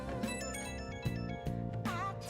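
A short chiming phone message alert from the video game Persona 5 Royal, tonal beeps over steady game background music, no speech.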